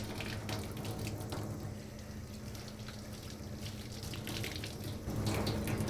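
Tap water runs steadily into a basement laundry sink while an item is rinsed off, a continuous close splashing flow that swells slightly near the end, with no voices.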